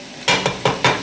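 Frozen vegetarian crumbles stirred in a hot pan for a stew, four short scraping, sizzling strokes in quick succession, close and fairly loud with no talk.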